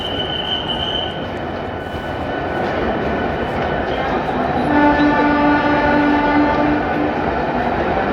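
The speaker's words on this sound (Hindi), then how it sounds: "ट्रेन के रियासी रेलवे स्टेशन पर पहुंचते ही भारत माता की जय के जय घोष गूंज उठे।" A train pulls into Reasi railway station, its loud, steady rumble and rolling wheels filling the space, with sustained horn tones rising near the middle and continuing to the end.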